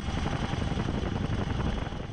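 Army F model Chinook helicopter in the air over Papua New Guinea during aid operations, a steady loud, broad rotor and engine roar that holds evenly throughout.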